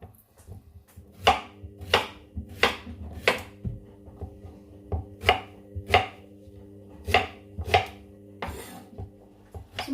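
A knife chops through a yellow courgette on a board in about a dozen distinct knocks, irregularly spaced and close, over a faint steady background hum, with no voices.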